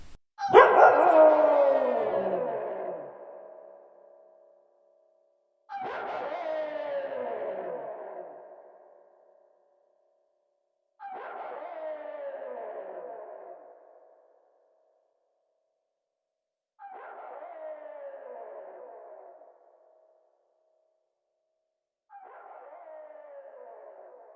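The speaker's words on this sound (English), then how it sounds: "it acts as kind of like a looping, degrading, repeating effect" An Ezra's Echo pedal in sound-on-sound mode repeats a single tone as a looping echo, heard five times about every five and a half seconds, each repeat quieter and more degraded than the last.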